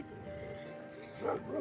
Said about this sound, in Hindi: यहाँ पे कुत्ते लड़ने लगे सुबह सुबह।